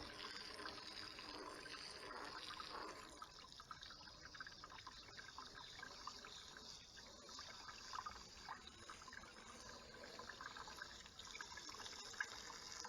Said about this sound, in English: Get that all rinsed out.